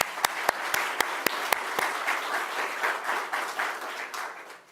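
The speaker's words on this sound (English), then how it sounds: "So let's give him a round of applause." Applause from the audience at a housing announcement in Buffalo, opening with several sharp, close individual claps before settling into a softer, steady wash of crowd clapping that gradually fades.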